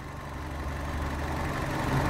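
A 2012 Fiat Panda 1.2 Pop with a 1.2-litre four-cylinder engine idles, giving a steady, even low hum that holds at a constant level throughout, with no voices.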